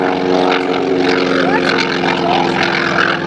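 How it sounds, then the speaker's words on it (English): A Trojan propeller airplane drones loudly and steadily during a simulated takeoff at an airshow, its engine note shifting slightly as it climbs away, with an announcer's voice running underneath. "Simulated takeoff and flying away from the carrier as the landing gear gets activated."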